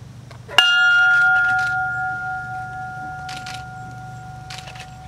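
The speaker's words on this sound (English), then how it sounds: "will toll the bell for United 93." A single memorial bell strike for United 93 rings out clearly, its tone sustaining and slowly fading over several seconds against a quiet background.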